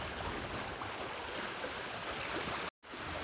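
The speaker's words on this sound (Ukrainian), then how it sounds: "так хорошо чутно шум води" Steady rushing water fills the scene in a gazebo in central Bardolino by Lake Garda, Italy, a broad, continuous wash of flowing sound with a brief dropout near the end.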